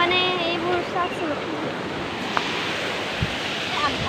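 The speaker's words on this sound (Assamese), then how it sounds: "এয়া যেন পানী নহয় একদম সাগৰৰ টাইপ হৈ গৈছে মানে কি ক'ব বহুত ঢৌ" Choppy waves washing across wide floodwater over fields, a steady rushing wash with wind buffeting the microphone and a voice talking over it.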